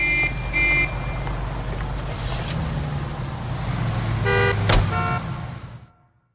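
Car driving and horns in the video game L.A. Noire: a steady engine and road rumble runs throughout, with short horn toots early on and a cluster of honks near the end before it cuts off, no talking.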